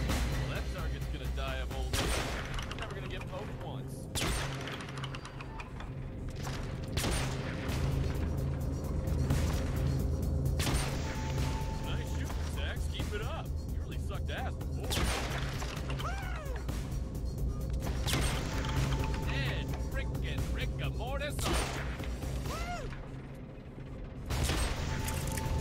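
Bursts of video-game gunfire from Hitman: Absolution crack repeatedly over a dense, busy mix of explosions, mechanical clatter and ambient noise, with a voice talking throughout.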